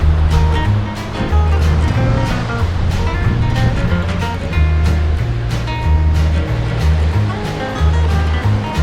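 Long waves rolling and breaking on a wide sandy beach at Shiroda, also called Paradise Beach, in Goa, a steady loud wash of surf throughout.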